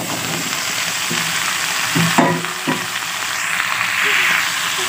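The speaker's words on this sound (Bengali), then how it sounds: "এখন আমি দিয়ে দিচ্ছি কেটে রাখা শিম।" Cut flat beans tip into a pan of lightly fried potatoes for a fish curry, raising a loud, close sizzle with a few scraping stirs.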